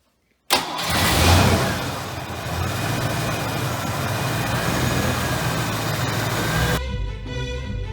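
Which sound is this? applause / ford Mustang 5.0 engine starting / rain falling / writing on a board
ford Mustang 5.0 engine starting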